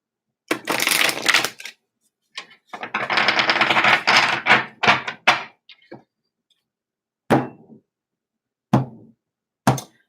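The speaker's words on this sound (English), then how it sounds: "One more shuffle for our lovely Sages." Tarot cards being shuffled by hand, heard as close bursts of papery riffling and flapping, then a few short separate card taps and slaps with quiet gaps between them, no voices.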